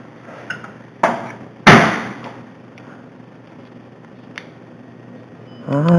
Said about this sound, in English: That furnace is burning.